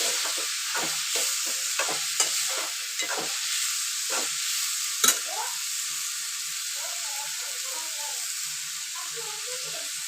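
Tomatoes and onion frying for Kolambi Masala prawn gravy, a soft continuous sizzle with a few sharp spatula scrapes and taps, some quiet talking near the end.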